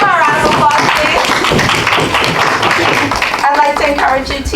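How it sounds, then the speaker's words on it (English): A round of applause rises from the audience at a poetry meeting, with scattered claps pattering beneath a voice that keeps talking loudly over them near the start and end. "Can we give him a round of applause, please?"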